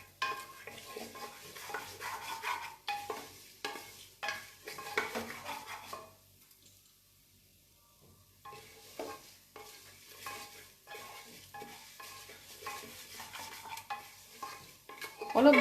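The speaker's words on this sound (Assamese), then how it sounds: "অলপ ভালকৈ ভাজিব লাগিব মুগ দালটো" Mung dal being fried and stirred in a pan, with a spoon scraping and clinking against the metal in irregular strokes over a soft sizzle, pausing briefly midway before the stirring resumes, with no talking.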